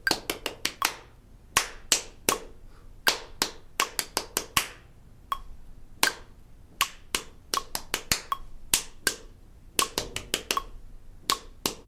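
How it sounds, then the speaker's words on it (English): Sharp hand claps tapping out a sixteenth-note pattern at a steady 80 BPM, close and dry, in irregular clusters of quick strikes separated by short gaps, with no voices. "All right, let's do it clapping."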